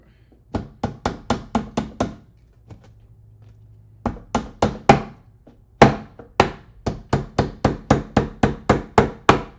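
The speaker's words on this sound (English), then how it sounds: "Right, then we're going to need the hammer." Hammer blows on parts of an IKEA desk during assembly: loud, sharp, evenly paced strikes in two long runs with a brief quieter pause between them, close to the microphone.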